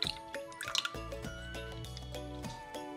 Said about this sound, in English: Pour a little bit of milk in there.